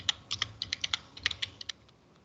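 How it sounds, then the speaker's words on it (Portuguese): Keys tapped on a computer keyboard while entering a word into a Microsoft Word text box, a quick run of about fifteen crisp, close clicks in an uneven rhythm, then a brief quiet. "e nós vamos digitar secretária"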